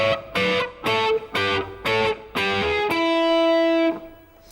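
Distorted electric guitar plays a blues shuffle lick: five or six short, punchy picked notes in a clipped rhythm, then one held note that rings out for about a second before cutting off.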